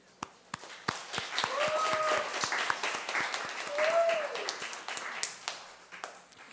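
Church congregation at a Sunday service clapping together in comfort and encouragement for a grieving family, a steady patter of applause swelling and fading over several seconds, with sustained sung or spoken tones drifting beneath it.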